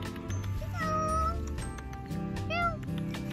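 A shy cat gives a few drawn-out meows close by, indoors, with a person's voice in the background; the calls come in two main bursts over steady room noise.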